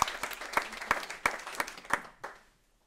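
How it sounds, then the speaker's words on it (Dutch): A short round of scattered clapping from an audience at a climate discussion event in Amsterdam, a handful of distinct claps at a steady pace that quickly die away into quiet. "Dat verdient wel een applaus, zeker."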